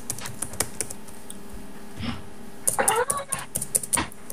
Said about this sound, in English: I type so fast at the computer